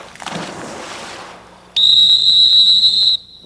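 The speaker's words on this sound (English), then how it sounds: "We'll stop her with a whistle," A sharp, loud, steady dog-training whistle blast lasting over a second, used to stop a retriever during a water drill, following a stretch of sloshing water and outdoor background noise.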